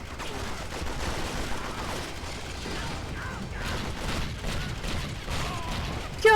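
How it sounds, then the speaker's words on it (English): Gunfire and rocket blasts from the video game 007 Agent Under Fire, a dense, continuous barrage of shots and mechanical clatter throughout, with a sharp loud burst at the very end. "Someone is shooting me with rockets!"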